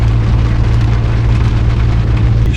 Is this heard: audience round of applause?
no